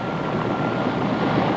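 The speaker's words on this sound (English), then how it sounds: "The Mi-8 Hip is the most heavily armed helicopter in the world." Soviet Mi-8 Hip helicopter producing a loud, continuous rotor and engine roar, steady and dense throughout the short stretch with no voices.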